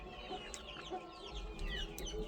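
A hen clucks softly and repeatedly at close range, with other chicken calls and faint chirps mixed in.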